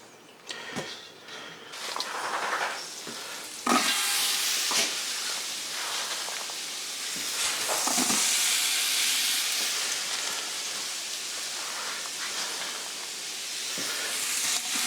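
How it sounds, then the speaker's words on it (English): Butter melting over medium-low heat in a pot while making French onion soup, giving a steady loud hiss and sizzle with scattered sharp pops and clatters throughout, no talking. "2 tablespoons of butter in the pot. Start melting it."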